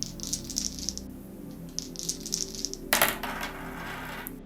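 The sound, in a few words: rolling astrology tarot dice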